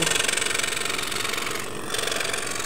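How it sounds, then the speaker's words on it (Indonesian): A scroll saw machine runs steadily, a close mechanical hum with a fast rhythmic buzzing pulse and a brief dip near the end, with no talking. "dengan mesin scroll saw ini"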